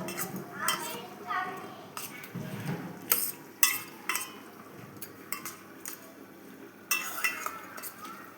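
Fish being mixed by hand with mustard oil for steamed fish wrapped in gourd leaves, with soft wet squelching and occasional clinks of a bowl throughout, while a voice talks underneath.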